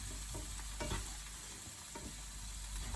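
Mushrooms fry with onions in an overcrowded pan for a mushroom risotto, giving a constant close sizzle broken by soft stirring clicks and scrapes, with no talking.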